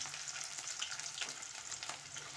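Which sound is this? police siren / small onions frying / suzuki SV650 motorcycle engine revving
small onions frying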